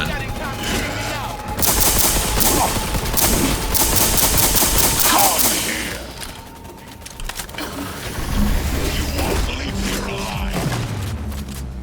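Rapid bursts of player gunfire in Cyberpunk 2077, a loud dense volley followed by scattered shots, with engine-like rumble and game effects in the mix.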